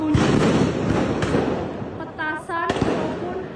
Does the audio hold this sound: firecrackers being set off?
yes